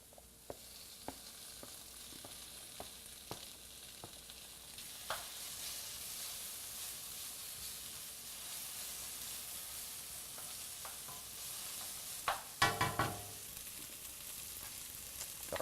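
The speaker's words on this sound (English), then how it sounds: "Now we're ready to turn the heat up on our paella pan. I'm going to go in with our onions" Onions and peppers sizzling in a paella pan over turned-up heat, a faint steady hiss with sparse tapping of a utensil and a brief cluster of louder scraping stir strokes near the end.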